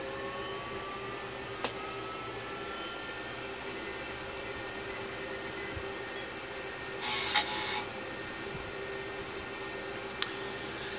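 A Tandy 1000SX computer fitted with a hard disk on an MFM controller boots up with a steady fan hum, one brief burst of drive noise partway through and a couple of isolated clicks.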